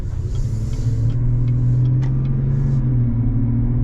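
A 2022 GMC Sierra 1500 AT4 pickup with the 3.0 engine drives along, a steady low engine drone and road rumble heard from inside the cab, loud and continuous with no talking.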